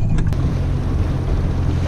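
A small fishing boat running on its own outboard engine with no trolling motor, a steady low rumbling drone with water and wind noise around it, continuous and close.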